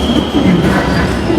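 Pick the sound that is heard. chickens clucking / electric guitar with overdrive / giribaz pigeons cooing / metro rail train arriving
metro rail train arriving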